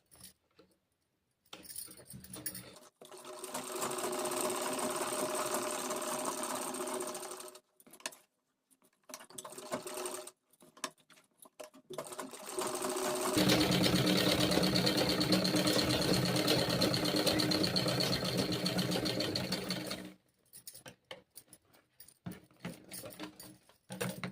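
A sewing machine stitches a blouse neckline in two long bursts of steady, fast mechanical whirring separated by short pauses and light handling clicks, close and with no talking.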